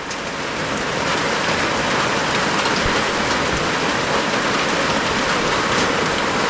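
Steady rain pours down, a dense hiss of drops drumming on surfaces, loud and close with no voices.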